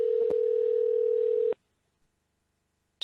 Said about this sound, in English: So we have that ringing event happening.